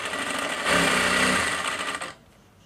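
A sewing machine stitches the side pocket of a pair of pants in one steady, close burst of rapid mechanical whirring lasting about two seconds before it stops.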